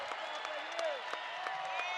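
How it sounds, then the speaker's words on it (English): Basketball crowd at Hilton Coliseum during an Iowa State home game against Baylor, a steady roar of cheering and applause with scattered claps and whistles, loud and continuous throughout. "And this crowd at Hilton Coliseum coming alive."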